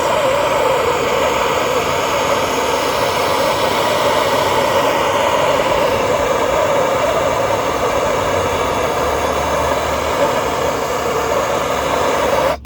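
A gas torch flame heating parts during engine work on a turbo E30 build, a loud, steady, close roaring hiss that runs unbroken for about twelve seconds before cutting off abruptly.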